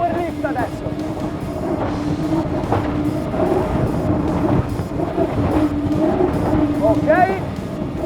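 Tesoro Yachts Isurus I30 motorboat at high speed, its engine roaring loud and steady over rushing water and wind, with someone talking over the drone.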